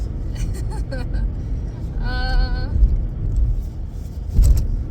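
Car being driven, heard from inside the cabin as a steady low engine and road rumble, with someone talking over it throughout.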